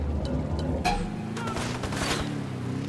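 Gunfire in the video game Ghost Recon Wildlands: a loud, close burst of overlapping shots and booms over a low rumbling game soundtrack.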